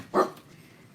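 A dog lets out a single short bark indoors, close and fairly loud, then quiet room tone follows.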